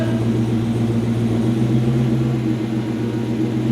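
A Land Rover Defender 90 engine runs steadily close by, a low droning idle with a constant hum and no pauses or voices.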